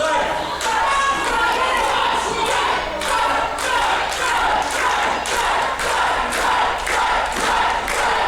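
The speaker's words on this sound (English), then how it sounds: "And the crowd firmly behind Troy. You can hear them still at this late stage chanting his name." Wrestling crowd at a British live show chanting a wrestler's name in a loud, rhythmic pattern with clap-like beats, steady and full throughout, a big indoor audience close around.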